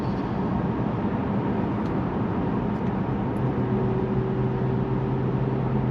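A Mercedes-Benz E450 4MATIC coupe with a 3.0-litre twin-turbo engine, held in gear in Sport Plus mode, pulls hard. It makes a steady, loud, dense roar of engine and road noise with no talking.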